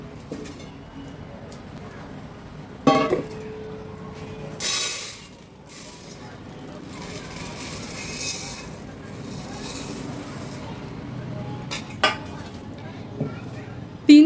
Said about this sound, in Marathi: आता हे तांदूळ एका पातेलात काढून स्वच्छ धुवून घेते